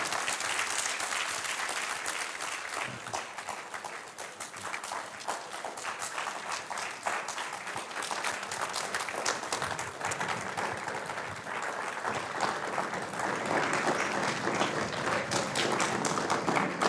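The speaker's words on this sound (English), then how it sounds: "I'm not sure if you're clapping" Sustained audience applause filling a lecture hall after a distinguished lecture, dense rapid clapping from many hands that stays loud and even throughout.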